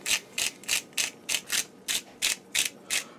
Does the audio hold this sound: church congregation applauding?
no